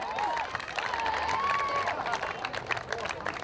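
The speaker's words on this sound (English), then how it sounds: "round of applause for Don Punch" A crowd at a women's football grand final in Bunbury breaks into applause, a dense patter of clapping that swells in the second half beneath an announcer's voice.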